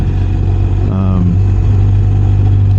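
A BMW R 1250 RS motorcycle engine hums steadily while riding at moderate speed, with wind rush and a brief rise in revs, close and continuous.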